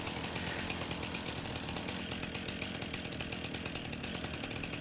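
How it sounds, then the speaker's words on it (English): A weed trimmer cuts through riverside weeds with a continuous buzzing motor whine that stays steady and close. The cutting noise is loud and unbroken throughout, with no voices over it. "I need a magic weed trimmer like this for home"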